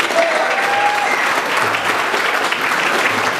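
Applause at a motocross champions award ceremony in Latvia, an indoor audience clapping steadily and loudly for several seconds, with a faint tone and murmur underneath.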